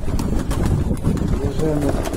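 Pigeons coo in short, low, warbling phrases near the end, partly masked by someone talking and steady background noise.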